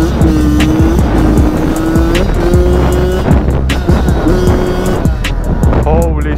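A Yamaha YZ85 two-stroke dirt bike engine buzzes loud and close throughout, its pitch rising and falling in repeated bursts as the rider works the throttle outdoors, with faint wind noise.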